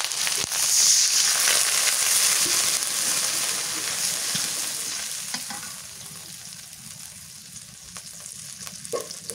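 Fried onion sizzles loudly in a pan as garlic and ginger paste go in, a steady hiss that gradually softens with a few stirring scrapes.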